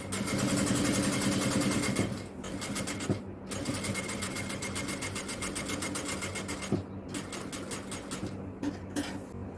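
Sewing machine stitching a fabric cross piece for an XL-size jalabiya, a steady rapid mechanical whir running continuously with brief pauses and restarts, close and moderately loud.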